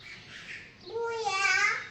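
A myna bird gives a short, close harmonic call that rises and wavers for under a second, following a softer murmur of background sound.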